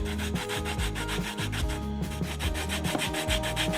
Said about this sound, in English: Get some orange zest.